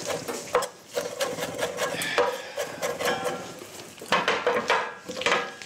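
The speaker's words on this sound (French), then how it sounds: "et là je vais hacher l'ensemble" A knife chops ingredients on a board in rapid, uneven bursts of sharp taps and scraping, close and clear, with short pauses between runs of strokes.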